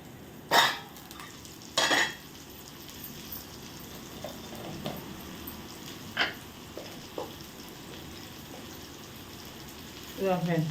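Brinjal, potato and tomato curry with chili powder sizzles quietly in a pan, a low steady frying hiss punctuated by a few sharp bursts of spoon-on-pan stirring and scraping, the loudest at the start and near the end.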